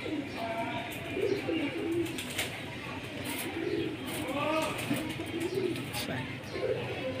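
Black-necked pigeons of an old Beji-line breed coo in repeated soft, rolling bursts, several birds overlapping at close range.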